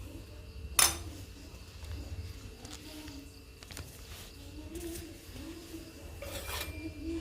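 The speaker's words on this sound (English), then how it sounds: "Then add 400 gram rice powder. Then mix it well." Rice powder dough for idiyappam is mixed by hand in a vessel, giving a quiet, continuous rasping and rubbing with one sharp clink near the start and a few softer scrapes.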